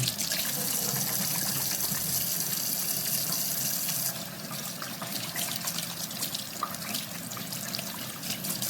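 A tap runs steadily at a sink for hand washing, a close, continuous hiss of splashing water that drops slightly in loudness partway through and then carries on evenly, with no voices.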